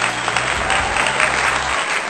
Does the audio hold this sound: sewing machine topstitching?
no